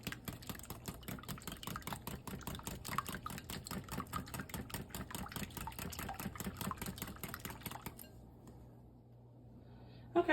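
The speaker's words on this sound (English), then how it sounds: "Salt and pepper to taste. I'm gonna whisk all that together." A whisk beats salt, pepper and a casserole mixture in a bowl, giving fast, steady rhythmic clicking and scraping close by for several seconds before stopping.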